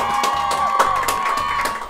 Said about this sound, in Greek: μου αρέσει αυτό το χειροκρότημα